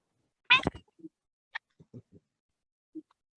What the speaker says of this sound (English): Baby kitty.